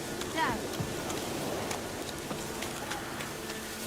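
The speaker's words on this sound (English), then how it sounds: "Looks like rain." Rain in The Witcher 3 video game, a steady soft hiss of falling drops with scattered sharper patters, moderately loud and continuous throughout.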